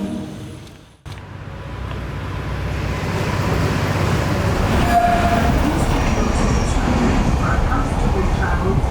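A metro rail train runs in a loud, steady rumble that cuts in abruptly and builds to a continuous roar of wheels on track, with a brief squeal partway through.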